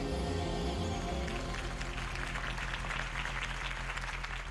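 Video game crowd applause swells and fills the scene, a dense wash of clapping from many hands after tonal music fades out underneath.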